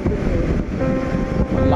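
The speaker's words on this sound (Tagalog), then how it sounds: "Malakas ng alon." Strong ocean waves surging near the shore, heavy and close, blended with gusty wind buffeting the microphone.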